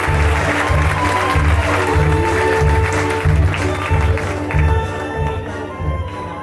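Festival audience at a Calvari fiesta presentation applauds loudly and steadily, a dense wash of clapping throughout with a strong rhythmic low beat of music underneath.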